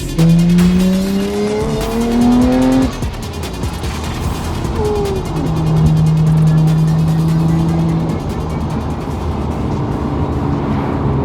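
A Nissan Skyline R33 GT-R engine revs hard and climbs through the gears, dropping briefly between shifts before surging again, loud and close with no talking.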